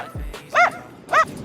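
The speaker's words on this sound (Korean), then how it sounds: "왜 이렇게 개가 짖니?" A dog barks twice, about half a second apart, fairly close and loud, with quiet background between barks; the setting is a village along the Portuguese Camino de Santiago pilgrimage route.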